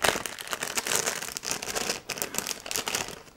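Packaging is crinkled and crumpled while a luxury beard care set in a rosewood case, which includes a pair of scissors, is unwrapped, giving a steady close rustle of rapid irregular crackles with brief pauses.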